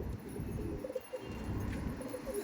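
Giribaj pigeons coo softly and repeatedly against a low background hum, with no talking.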